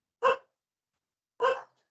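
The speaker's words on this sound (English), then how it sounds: "Oh, the dog in the background." Dog barking twice in the background, two short, sharp barks about a second apart with silence around them.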